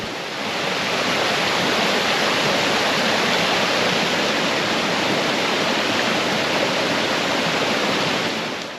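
A river swollen by heavy rain rushes through a forest, a loud, dense and unbroken roar of churning water that fills the whole stretch without pause.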